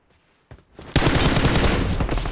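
Automatic gunfire in the mobile shooter PUBG Mobile: a couple of faint pops, then a loud sustained burst of rapid shots that rattles on continuously to the end, with no talking.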